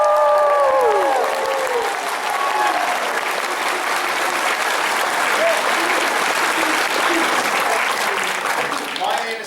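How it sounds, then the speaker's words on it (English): Loud, sustained crowd applause at a convention fan panel in Orlando, with cheering voices and whoops rising over the clapping near the start and continuing steadily to the end. "Give yourselves a round of applause."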